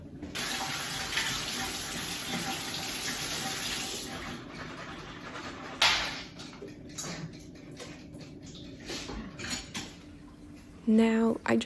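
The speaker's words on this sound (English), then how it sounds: "I just went ahead and gave the pumpkin seeds a bit of a rinse" Tap water pours steadily into a sink while pumpkin seeds are rinsed. A strong, even rush lasts about four seconds, then gives way to softer splashing and handling. A brief louder clatter comes near the end.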